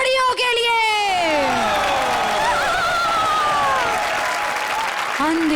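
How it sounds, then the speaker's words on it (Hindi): Loud audience applause at a televised stage comedy show, a dense roar of clapping with cheers and whoops, while a voice carries on over it and the clapping continues through to the end. "और जोरदार तालियां हमारी हॉरर जोड़ियों के लिए।"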